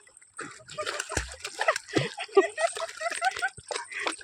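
A dog swimming in the Bhavanisagar river, with irregular close splashing and sloshing of water as it paddles, while people talk over it.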